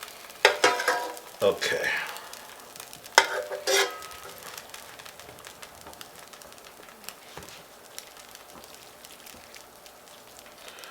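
Cooked chicken filling for a chicken and cheese pie is scraped out of a pan in a few loud, close bursts of scraping and clatter early on, fading into faint sizzle and quiet kitchen noise; a voice speaks briefly.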